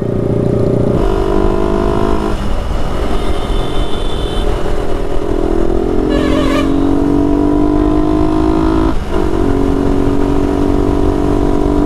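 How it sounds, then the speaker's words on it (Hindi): A new Yamaha R15 version 4 fitted with an aftermarket exhaust rides ahead on a Kolkata street, its loud engine note rising and falling through gear changes amid steady traffic noise. "सामने चल रही है नई वाली आर्म फाइव वर्जन फोर और इसमें लगे एग्जॉस्ट तो गाड़ी आवाज़ अच्छी खासी कर रही है"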